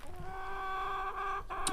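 A single chicken at a coop gives a drawn-out, nasal call close by, followed by a brief sharper squawk at the end.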